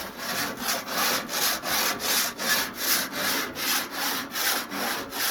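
Stiff grill brush scrubbed back and forth across metal grill grates, a steady rhythmic rasping of about a dozen even strokes, close and fairly loud with no talking.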